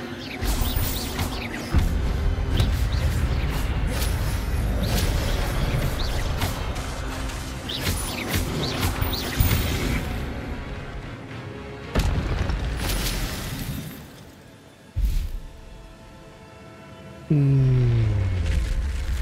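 Spell effects in the Hogwarts Legacy video game: dense, loud booms, crashes and whooshing blasts follow one another with brief dips, ending in a rising magical swell.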